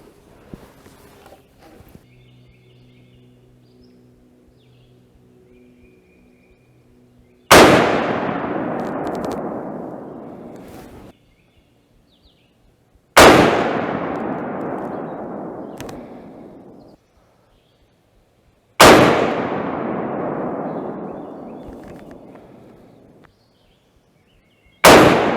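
Rifle fired during accuracy testing after free floating and bedding, three loud sharp shots spaced several seconds apart, each ringing out with a long decaying echo, and a fourth shot beginning right at the end.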